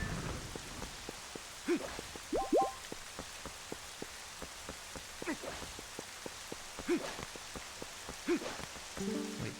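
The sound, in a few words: rain falling, from the video game Zelda: Twilight Princess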